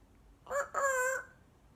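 A Congo African grey parrot mimics a rooster's crow, a single loud two-part call, close and clear against a quiet background.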